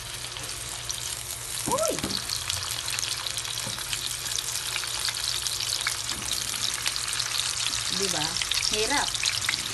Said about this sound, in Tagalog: iprito na natin yung ating hotdog